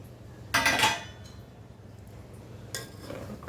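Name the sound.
lid put on cooking pot on the stove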